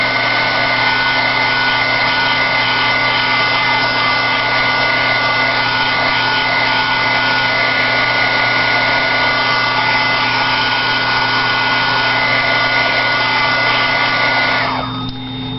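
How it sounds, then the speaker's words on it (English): Electric sander run lightly over a painted wooden plaque, a steady close whirring drone with constant hum that holds evenly throughout and cuts off near the end. "I'm going to take my sander once again, and I'm just going to lightly"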